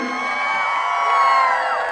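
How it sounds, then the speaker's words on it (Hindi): Cheering and hooting from an audience at a school event with over 150 children performing, a steady crowd roar with whoops and shouts, fairly loud and continuous. "एक बार पूरी टीम के लिए जोरदार की हूटिंग हो जाए इनके लिए"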